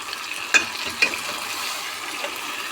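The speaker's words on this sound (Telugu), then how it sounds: "అంటే మనం అది ఫిష్ వేసి ముక్కేసి కొంచెం కలిపినాం" Fish pieces frying in a pan with oil, a steady close sizzle with a couple of brief louder pops or clinks as the pieces are stirred, no voices.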